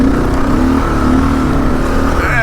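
Gen 3 Kawasaki KLR motorcycle engine droning steadily while riding through sand, a loud continuous close-up drone with slight rises in pitch and no talking.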